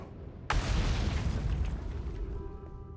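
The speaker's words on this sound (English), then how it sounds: "That was a loud explosion." A loud explosion in the space game Outer Wilds hits hard and sudden, its deep broadband rumble rolling on for seconds afterward, with a faint tonal hum emerging near the end.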